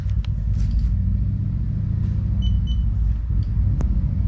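Quantum Edge 3 power wheelchair motor running during a test, a steady low rumbling hum close by with a few faint beeps and small clicks.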